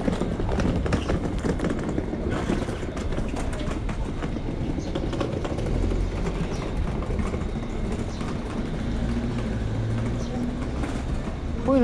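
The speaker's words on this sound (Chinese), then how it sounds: "火影忍者的列车哎" A Naruto-themed train near Lake Kawaguchi at Mount Fuji rolls past with a close, steady rumble and rhythmic clatter, with some voices in the background.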